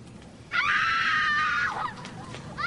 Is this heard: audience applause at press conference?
no